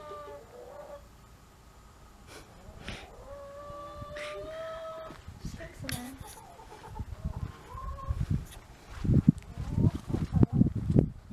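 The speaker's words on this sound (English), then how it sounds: "I wanted to pick up some chickens that my stepdad's given us" Farm chickens cluck in scattered bursts, sparse and fairly quiet at first, then growing louder and busier toward the end.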